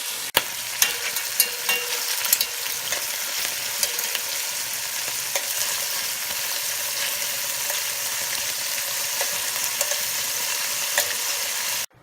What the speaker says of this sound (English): We just finished browning off our wild boar, putting that aside